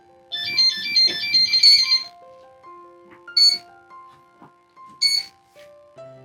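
A Pixhawk flight controller on an F450 drone plays its startup tones after the battery is connected: a bright rapid musical trill, then a sequence of clean single beeps and two short chirps, close and clear with no talking.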